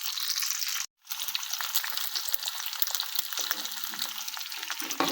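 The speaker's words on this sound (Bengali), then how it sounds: "পেঁয়াজটা কিছু লাল করে নিই।" Onions browning in a pan sizzle with a steady, bright crackle through the whole stretch, briefly dropping out for a moment before resuming at the same close, even level with faint clicks.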